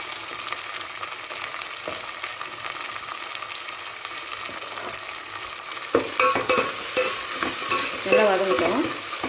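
Tomatoes sauté in a hot pan for a tamarind fish kulambu, giving a steady, close sizzle that grows louder and busier as a spoon scrapes and stirs through them.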